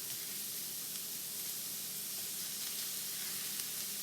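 Mushrooms sizzle steadily in a hot frying pan, a soft continuous hiss with faint crackle and no talking.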